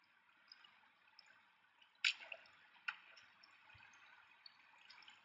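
Running water in Minecraft flows steadily as a soft, continuous wash, with a few brighter splashy drips standing out partway through.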